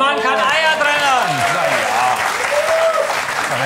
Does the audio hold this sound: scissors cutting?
no